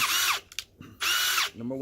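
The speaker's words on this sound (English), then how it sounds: "I'm gonna drill into this piece of wood. I'm gonna use the 18 volt." A Ryobi 18V drill on the drill setting bores into wood with a 1-inch bit, giving two loud whirring bursts separated by a short pause with faint clicks and rattles.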